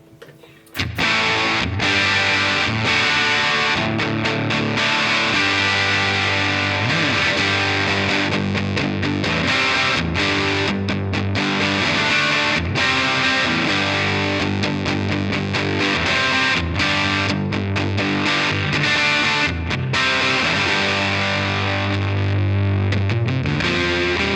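Overdriven electric guitar plays chords and riffs with a crunchy tone from a boost pedal pushing the amp, loud and continuous after a brief quiet start.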